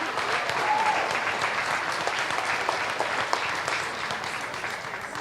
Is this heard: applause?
yes